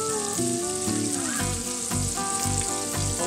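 Whole cinnamon and small green cardamom sizzle and crackle in hot melted butter, a dense continuous frying hiss with a few stirring scrapes, close and steady.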